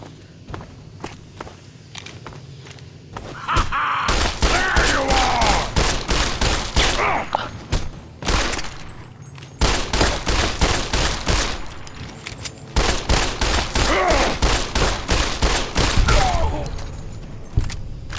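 Rapid bursts of rifle fire in Fallout: New Vegas (Tale of Two Wastelands), loud and sustained, with volleys in dense clusters broken by short pauses, mixed with footsteps and game effects.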